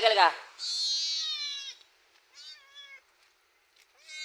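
A pet cat gives a series of high, drawn-out meows close by, one long cry followed by shorter ones with brief pauses between, fairly loud against quiet.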